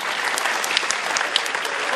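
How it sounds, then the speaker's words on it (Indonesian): A seminar audience in a university hall claps steadily throughout, dense, even applause filling the room with a few sharper individual claps standing out. "Dan tepuk tangan dulu untuk Pak Ahok"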